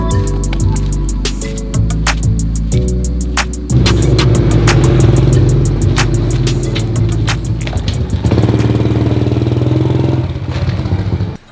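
A motorcycle engine runs on a rural dirt road in Laos, up close and loud, idling then revving with shifting pitch and clattering bumps, no voices.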